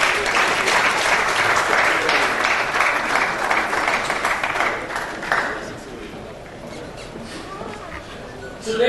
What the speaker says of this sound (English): Please a round of applause for that, please.